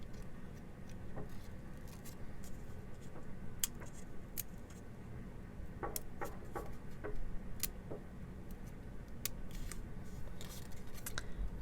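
Scissors snip out a paper craft element for a vintage retro junk journal, giving a string of sharp, scattered close-up cuts and clicks over a low steady room hum, with no talking.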